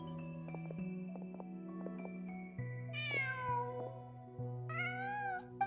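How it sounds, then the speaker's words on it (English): A cat meows twice in Genshin Impact, rising plaintive calls heard over soft, steady game music with plucked notes. "Just a cat."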